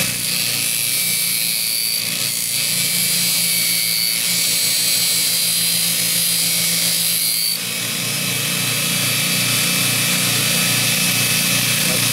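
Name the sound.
belt grinder sanding a damaged fuller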